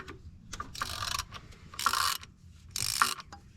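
Short bursts of metallic ratcheting repeat at uneven intervals as a wrench loosens bolts on the turbo hot pipe of an SR20 engine in a 240sx, close and fairly quiet, with no voices.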